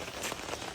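Heavy rain pours down on an awning in a steady dense hiss, a brief, continuous wash of drumming drops with no voices.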